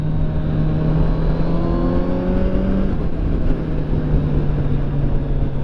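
Kawasaki Z900 motorcycle engine pulls hard under acceleration, its steady rising drone broken by a quick-shifter upshift near the three-second mark, close and loud throughout with no talking.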